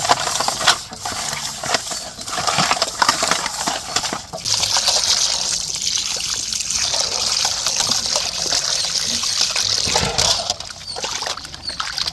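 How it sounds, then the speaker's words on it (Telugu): Water runs and splashes steadily while raw fish is rinsed by hand in a village kitchen, a close, continuous trickle and gush with small clatters and no talk. "అలా ఒక రెండు మూడు సార్లు అంటే కడుక్కోండి నీట్గా శుభ్రంగా అయ్యేదాకా"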